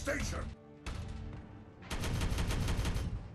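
Gunfire in the video game Regicide: bursts of rapid shots, a short volley, a brief lull, then a denser sustained barrage, heard at moderate level.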